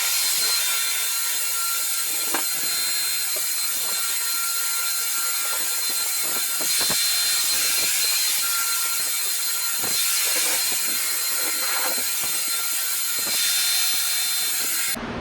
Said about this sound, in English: I got a flat disc on my angle grinder.